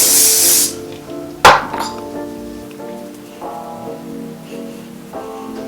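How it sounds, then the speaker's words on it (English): A loud burst of hairspray hisses at the start, followed by a sharp clatter and quieter handling sounds with a faint tonal hum underneath. "I'm gonna spray and scrunch and spray and scrunch"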